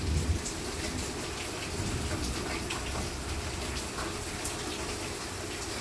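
Rainstorm pouring down around a patio, a dense, steady hiss of rain hitting surfaces with scattered drips and a low rumble, continuous and enveloping with no voices.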